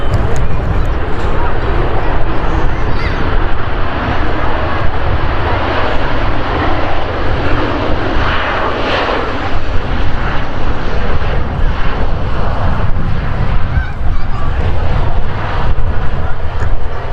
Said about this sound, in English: So as the aircraft sort of leaves the runway and taxis past us